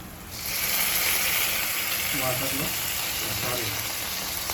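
Pieces of goat brain sizzle loudly in hot oil with fried onion, cooked as a Telugu-style brain fry. A steady, close hiss holds throughout, with faint stirring sounds.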